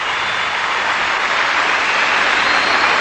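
A large arena crowd applauds gymnast Trudy McIntosh at the 2000 Qantas International floor exercise, giving a loud, dense, continuous roar of clapping with no breaks.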